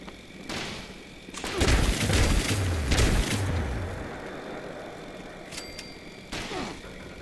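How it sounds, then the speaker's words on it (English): Scattered gunshots and heavy thuds in the Fallout 76 game world, several loud bursts close together early on, then a quieter stretch with a lone sharp report near the end. "I heard shots, but I'm not sure which direction they're coming."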